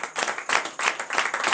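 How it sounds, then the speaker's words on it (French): Applause and acclamation for the Lord at a church service in Benin, a close, dense burst of many hands clapping in quick, uneven rhythm, loud and continuous with no voices on top. "Donnez encore de vives acclamations à notre Seigneur."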